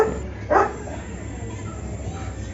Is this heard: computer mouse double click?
no